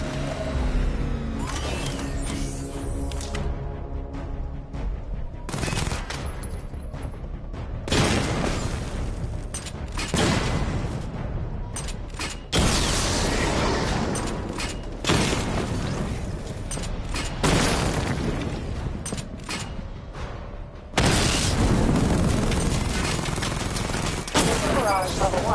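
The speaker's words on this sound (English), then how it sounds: "Destroy targets to charge up weapon energy and activate missile barrage." Batmobile cannon fire and missile barrage in Batman: Arkham Knight, heard as loud, dense bursts of blasts and booms that keep coming in heavy volleys across the whole stretch, with short gaps between barrages.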